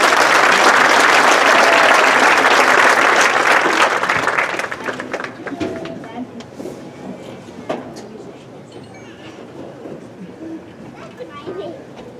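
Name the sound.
audience applause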